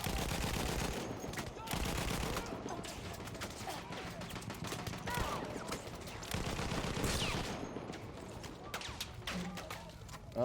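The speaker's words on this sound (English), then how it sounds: "I have a Lewis gun." Rapid machine-gun bursts from a Lewis gun in the battlefield video game Battlefield 1, a dense, continuous rattle of fire with brief pauses and scattered louder cracks over a busy combat background.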